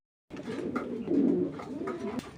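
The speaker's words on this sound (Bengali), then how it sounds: "দর্শক এক জোড়া গ্রিজেল কবুতর, টাইগার গ্রিজেল জোড়া।" A pair of tiger grizzle racing pigeons in a cage give a close, low, throaty coo that rolls on for about two seconds.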